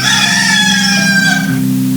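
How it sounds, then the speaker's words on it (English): A rooster crows in one long, loud call with a rising and falling harmonic tone lasting about a second and a half, heard alone and close, with faint background noise after the call ends. "there is no school bell, just the rooster."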